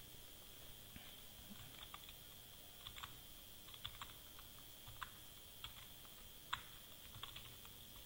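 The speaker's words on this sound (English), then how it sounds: "This is the fresh file where you can start typing." Light, irregular keystrokes on a computer keyboard while typing a new Microsoft Word document, faint and close, with uneven pauses between taps over a steady background hiss.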